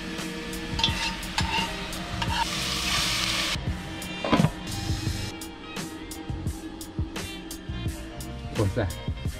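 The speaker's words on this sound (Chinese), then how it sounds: "现在在车里做饭，" Food stir-fries in a pan inside a camper van on a self-drive trip through Hulunbuir, Inner Mongolia, with a steady sizzle and occasional stirring clatter while people talk over it.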